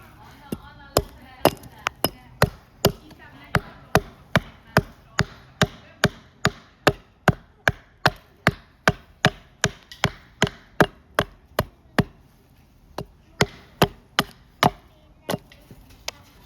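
A Bevercraft AX6 axe chops wood in sharp, even strikes, about two a second, each a crisp close thwack, running for roughly twelve seconds before a short pause and a few more blows.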